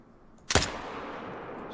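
A single rifle shot in the hunting video game theHunter: Call of the Wild, one sharp crack followed by a fading outdoor tail of reverb.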